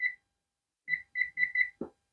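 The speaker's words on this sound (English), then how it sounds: "And we're going to set our timer" A kitchen timer gives one short electronic beep, then after a pause a quick run of four bright beeps as buttons are pressed, followed by a soft click, all close and clean.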